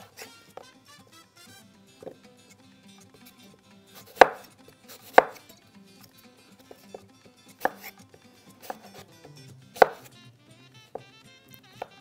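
Red cabbage chopped with a knife on a board, a handful of sharp, uneven chops standing out clearly over a quiet kitchen background, with softer taps in between.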